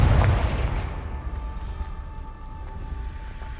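Confringo blasting curse in Hogwarts Legacy, a single loud burst at the start that decays into a long rumbling fade with a faint lingering hum.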